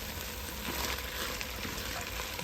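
Celery and other vegetables fry in meat drippings in a pan for spicy jambalaya, a soft continuous sizzle with faint crackles, fairly quiet and close, with no talking.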